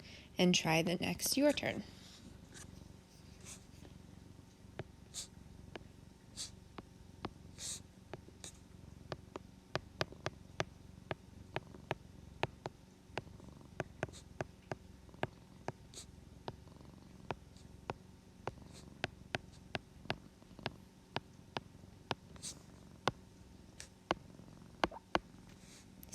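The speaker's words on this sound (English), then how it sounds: "I don't know if you can hear my cat purring or not" A cat purrs softly and steadily close by, a low continuous rumble under a person talking about geometry, with occasional faint clicks.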